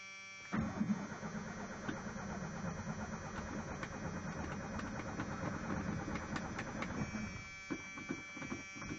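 A 1986 Ford F150 engine cold starting: a cranking catch, then a steady rough idle running loud and close with a faint whine, sputtering and dipping near the end as if about to stall.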